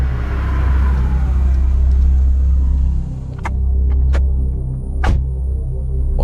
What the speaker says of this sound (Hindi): विवेक ने ड्राइवर को गाड़ी रोकने के लिए कहा।